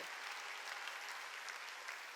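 Congregation clapping together during a Sunday worship service at a Korean church, a dense, steady wash of hand claps held at an even level throughout.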